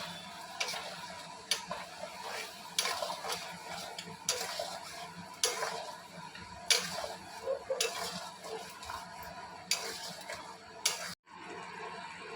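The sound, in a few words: frying spice masala with chicken, stirring in pan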